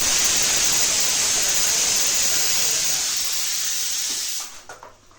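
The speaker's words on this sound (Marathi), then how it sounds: "मिरची याला छान फ्राय करायचं." Lavangi red chilies sizzle hard in hot oil for a spicy mutton masala, a loud dense hissing spatter that holds steady for over four seconds, then fades into a few softer crackles.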